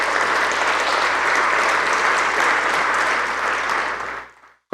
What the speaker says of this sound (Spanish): Aplaudimos al Señor.